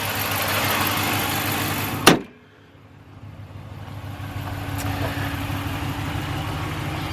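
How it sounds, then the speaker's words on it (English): A 2015 Dodge Ram Lonestar pickup truck's engine idles with a steady, close-up rumbling hum. A sharp click briefly cuts the sound before the idle builds back to a steady drone. "you can hear the truck running just fine right now."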